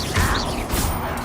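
Spell effects from the Hogwarts Legacy video game burst out in a short, loud noisy crash and whoosh, a brief magical impact with a second swell, and no voices.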